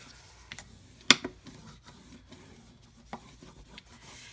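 Paper for a wedding album craft is burnished by hand, giving faint, steady rubbing and scraping strokes with one sharp tap and a few light clicks, close and quiet.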